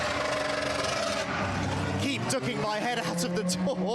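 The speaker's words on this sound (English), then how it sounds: "That was the noise of one of the GT Winter Series Lamborghinis heading out into the pit lane" A Lamborghini GT race car from the GT Winter Series heads out into the Barcelona pit lane. Its loud, droning engine note dominates the first second, then fades under someone talking over the remaining engine sound.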